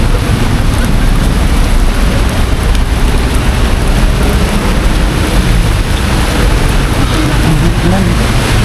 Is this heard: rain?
yes